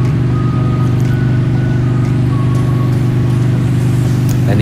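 Harley-Davidson motorcycle cruising on an open road in Los Angeles, a steady low engine drone with constant wind rush, loud and close throughout with no pauses.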